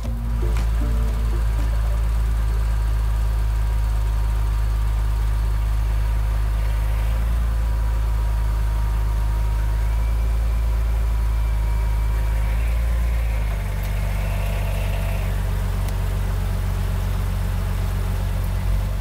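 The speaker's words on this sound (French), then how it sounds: "On entend nettement la boîte aspirer le contenu du carter d'ailleurs." A BMW 330ci E46 engine idles steadily with a low, continuous rumble and faint whirring as the gearbox draws fluid from the sump, shifting slightly in tone partway through.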